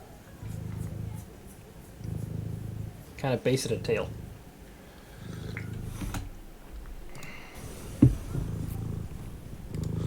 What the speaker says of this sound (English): Yep, purring machine, guys.